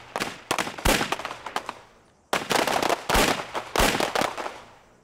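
Gunshots on a police SWAT firing range: two volleys of sharp, rapid cracks, loud and close, separated by a short pause.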